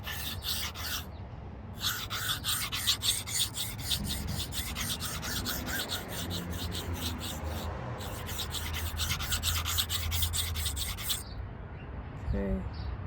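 Steady, rhythmic rasping strokes of a sharpening stone or file working the spine of a CPM-10V steel bushcraft knife, close and fairly loud, in repeated bursts with short pauses between passes.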